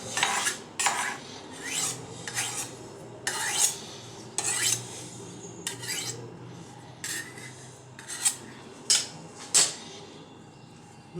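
A knife scrapes and taps against a dish while cutting all around the edge of a baked vanilla flan, in a series of short, close, rasping strokes separated by brief pauses.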